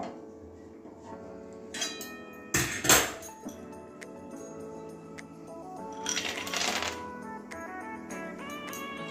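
Dry soybean chunks drop into a pot of water in a home kitchen during preparation of a Bengali soybean, cabbage and potato curry, giving two brief rattling bursts a few seconds apart over a low steady background.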